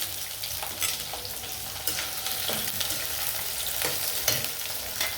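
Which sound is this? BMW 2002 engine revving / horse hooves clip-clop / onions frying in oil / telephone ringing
onions frying in oil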